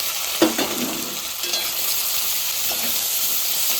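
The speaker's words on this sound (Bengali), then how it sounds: "পটলের বীজগুলো আর পেঁয়াজ এটা তেলে দিয়ে দেবো এটা একসঙ্গে ভেজে নেব" Pointed gourd seeds and onion frying together in hot oil, a steady close sizzle with a few stirring scrapes near the start.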